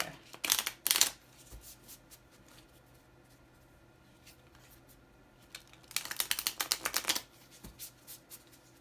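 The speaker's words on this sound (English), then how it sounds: "A couple of more shuffles here." Two bursts of playing cards being shuffled, a quick riffling flutter near the start and a longer one later, with quiet handling between.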